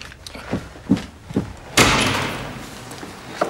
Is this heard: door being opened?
yes